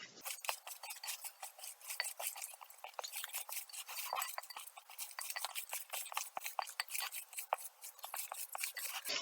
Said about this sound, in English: I'm grabbing it, twisting it, and folding it over to mash all the ingredients together